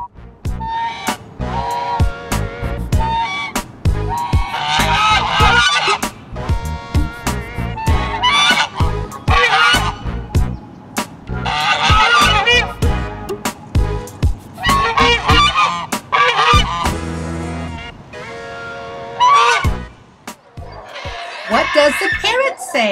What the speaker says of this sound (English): What does the geese say?